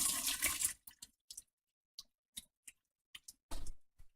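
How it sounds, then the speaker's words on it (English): Rinse water sloshed inside an open can of olives, a brief wet rush followed by a series of short, sharp rattling shakes in an uneven rhythm, close and alone with no talk. "just take and give it a little shake like that with water in it"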